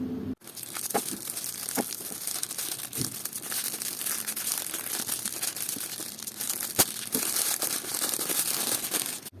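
Crinkly plastic wrapper of a Halloween surprise egg being torn open and crumpled, a steady close rustling and crackling that runs nearly unbroken for about nine seconds with a few sharper snaps, no voices.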